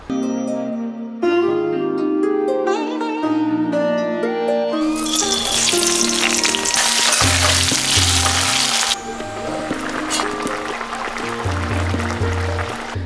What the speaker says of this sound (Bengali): একটু বেগুন ভেজে নেবো সঙ্গে